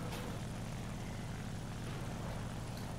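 Propeller aircraft in the War Thunder combat game, a steady loud engine drone with strong low rumble holding evenly throughout, no voices over it.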